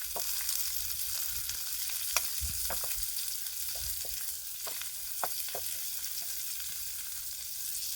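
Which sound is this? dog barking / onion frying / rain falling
onion frying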